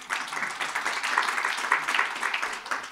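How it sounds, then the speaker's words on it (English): Applause from a conference panel audience on India's agricultural exports: dense, steady clapping that stays fairly even for about three seconds without a clear peak or fade. "Clap is always welcome."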